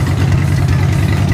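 A Harley-Davidson Dyna motorcycle engine runs steadily at idle, a loud, continuous low rumble with a faint uneven pulse and no voices over it.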